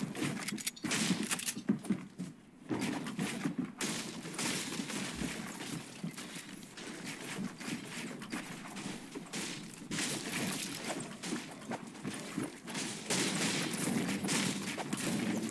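SMG gunfire during a Fortnite FNCS Invitational grand finals match, heard as dense, continuous crackling shots that carry steadily across the whole stretch at moderate level, with no voices over it.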